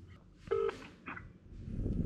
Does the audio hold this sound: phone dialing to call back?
yes